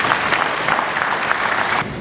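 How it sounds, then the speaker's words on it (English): An audience at a live event applauds in a thick, even wash of clapping that fades noticeably toward the end, with no talking. "Let's clap for me."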